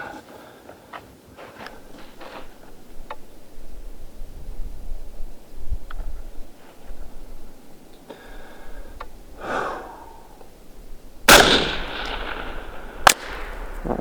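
Two sharp, loud 5.56 rifle gunshots fired downrange at an outdoor range: a single crack near the end, then another shortly after, each following a stretch of quiet ambient background.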